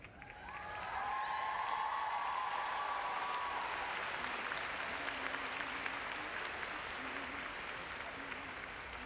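Applause from the audience at a university commencement ceremony, a steady wash of many hands clapping that swells in after a faint voice and holds evenly, fairly distant in a large hall.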